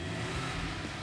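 A 5200 cc ten-cylinder supercar engine revs hard, producing a loud, steady, close-up roar with a deep low rumble throughout the short burst.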